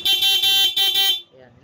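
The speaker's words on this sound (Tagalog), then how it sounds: "syempre stock horn" A loud, close stock car horn sounds in three quick blasts, the last one cut short, followed by a brief murmur of voices.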